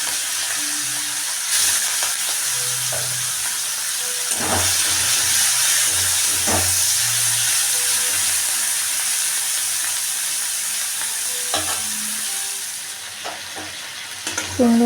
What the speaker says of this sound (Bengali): প্রথমে চিংড়ি মাছগুলো ভেজে নিচ্ছি।